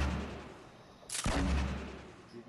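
A single sharp gunshot from the Fortnite battle royale game cracks out at moderate volume over a steady low background hum, with a brief broadband burst followed by a fading tail.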